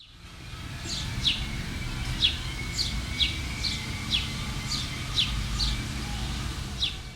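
Birds chirp in summer outdoors, repeating a short, bright call about once a second over a soft background hum, clear and moderately near.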